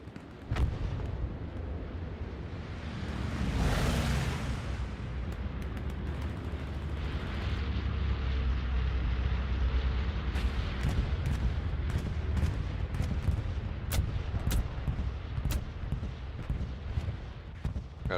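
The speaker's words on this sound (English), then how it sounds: "Got a shit ton of hits with that bombing run." Bombs from an air strike detonate in Hell Let Loose, a dense rolling roar of heavy explosions that swells early and keeps rumbling loud throughout, with scattered sharp cracks and pops over the barrage.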